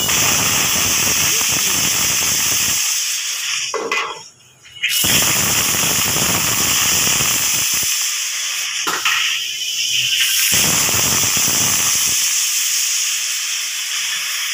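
A pressure cooker cooking karamcha for sour dal lets out a loud, close steam hiss in long bursts, broken by brief pauses.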